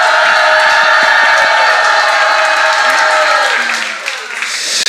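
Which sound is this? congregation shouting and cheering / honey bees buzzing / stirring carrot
congregation shouting and cheering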